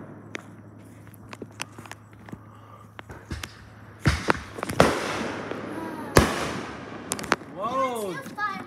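Medium Independence Day firework shells thump on launch and crack overhead, with sharp bursts in an irregular series and whistling, warbling effects near the end. Voices are heard faintly between the bangs.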